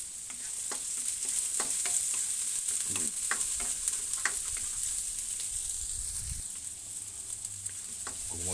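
Garlic and onion fry in a pan with a bright, constant sizzle broken by repeated scrapes and taps of a spatula, heard up close with no voices.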